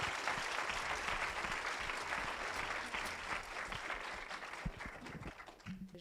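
Audience at the RATP Grand Prix Poésie ceremony claps in a dense, fairly quiet burst of applause with some distinct close claps, tapering toward the end with a faint murmur.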